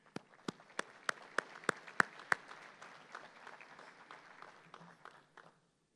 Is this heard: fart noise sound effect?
no